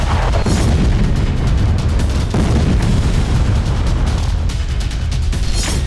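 Heavy, continuous booming and rumbling from explosions in an aerial attack on an area around the Nova Kakhovka water plant during the Russia-Ukraine war, with repeated blasts layered into a loud, dense roar throughout.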